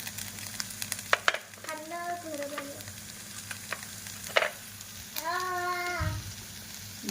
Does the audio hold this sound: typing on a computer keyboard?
no